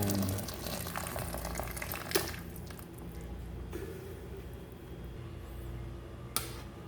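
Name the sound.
water boiling in pot for mung bean stew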